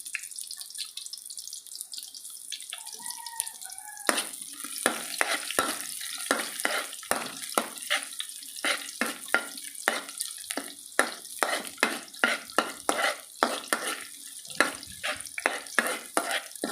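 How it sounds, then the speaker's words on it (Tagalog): Garlic sautés in a pan for a breakfast of pork steak and ginisang sayote, a steady sizzle broken by repeated sharp scraping stirs and clatters, loud and close with no talk. "dito naman sa kabilang side ay nagigisa ako uli ng garlic"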